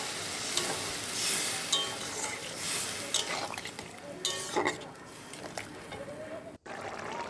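Potatoes and soybean chunks being stir-fried in a pan, a steady sizzle with repeated scraping and stirring strokes of a spoon against the metal, close and continuous, with a brief break near the end.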